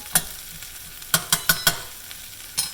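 Onions and peppers cook in a pan under a faint background sizzle. About six sharp spoon scrapes and taps land in a quick, uneven cluster, close and fairly loud, with no speech.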